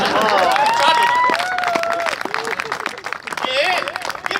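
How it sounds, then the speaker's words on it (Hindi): Audience clapping and cheering at a mushaira poetry recital, a burst of applause under a poet's voice with scattered claps continuing as the reading goes on. "आप अक्कली तालियां बजाएं"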